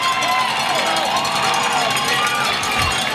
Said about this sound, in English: the crowd's getting loud here